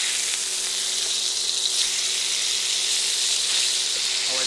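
Garlic butter burger patties topped with cheese sizzle steadily on a hot cooking surface, a loud, even hiss of frying fat with faint crackles throughout.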